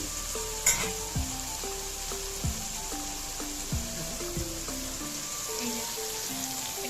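Ginger garlic paste sizzles steadily in a hot pan with tomato, chili and soy sauce added, a constant close frying hiss broken by a few sharp clinks of stirring utensil strokes.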